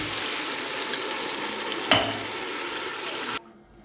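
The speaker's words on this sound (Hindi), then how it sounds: "अब मैं इसमें पानी डाल देती हूँ।" Water pours into a pot of boiled white chana for pulao, a steady, close, hissing rush that rises with a brief splash partway through, then cuts off abruptly into near silence.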